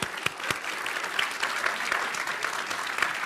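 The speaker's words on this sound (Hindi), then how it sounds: "तालियों के साथ दोनों का बहुत बहुत अभिनंदन" A studio audience at a Bihar political debate show claps to welcome guests, a steady spread of hand claps with a few sharper near claps standing out, continuing throughout.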